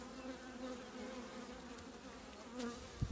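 Agitated honey bees swarm around an open hive during a spring brood inspection, a dense, steady buzzing drone filling the whole clip at close range, with a brief louder pass near the end and no talking.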